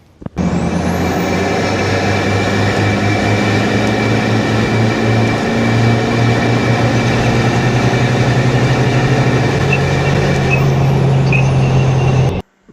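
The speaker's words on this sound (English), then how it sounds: "How's that for sound? So much better than the stock exhaust." A Toyota Hilux N80 Rogue with a dyno-tuned aftermarket exhaust drives along, its engine droning loud and close with a steady rumble and gear-shift pitch changes throughout.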